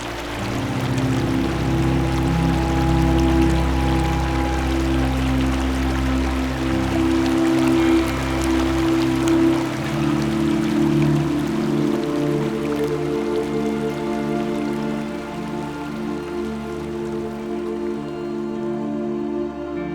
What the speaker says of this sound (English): hearing those leaves flutter in the wind and the sound of the river together